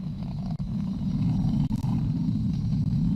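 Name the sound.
SpaceX Falcon 9 rocket engines during launch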